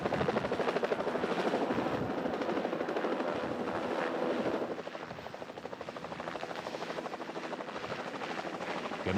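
Helicopter flying over the Argentine pampa, its rotor chopping in a rapid, steady throb that stays loud and close, easing slightly partway through as it passes.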